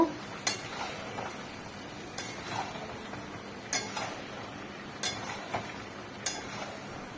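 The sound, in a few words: stirring fried prawns with poppy seed paste in a pan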